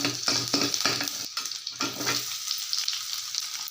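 Onions frying in a pan with garlic, a crackling sizzle broken by rhythmic scraping and stirring strokes that fade to a lighter hiss.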